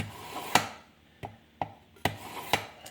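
A kitchen knife is pulled through the polishing stage of a Chef's Choice non-mechanical sharpener, five short scraping strokes spaced about half a second apart, close and quiet.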